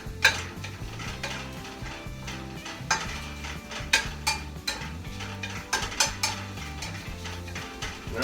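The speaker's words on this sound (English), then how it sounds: "we're going to stir and cover for a little while" Italian sausage browning in a pan, stirred with a utensil that scrapes and clacks against the pan in irregular strokes over a low steady sizzle, close up and without talking.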